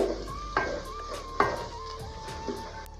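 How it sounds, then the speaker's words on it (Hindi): Ginger and garlic paste fries lightly in a pan for chicken Sindhi biryani, a soft sizzle under a few sharp scrapes and clinks of a spoon against the pan, close up and fairly quiet with no voices. "अदरक का पेस्ट ऐड कर देंगे। लहसुन का पेस्ट ऐड कर देंगे। इनको बिल्कुल हल्का सा फ्राई करेंगे।"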